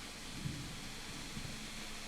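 Steady rain hisses continuously in the video game Kingdom Come: Deliverance, with a low, distant rumble of thunder underneath, faint and even throughout.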